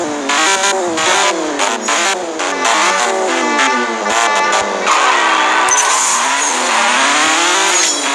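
A Ferrari 599 GTO races in the CSR Racing 2 mobile drag-racing game, its engine revving up and down through rapid gear shifts with a brief tire screech, loud and continuous with no talking.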